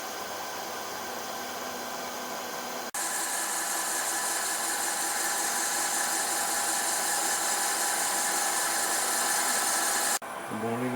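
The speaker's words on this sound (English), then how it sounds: "Boring out a friction drive for this guy here now." Myford ML10 lathe boring out a friction drive: a steady mechanical whine that jumps louder after a few seconds, holds evenly, then cuts off abruptly near the end.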